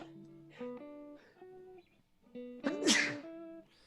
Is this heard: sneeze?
yes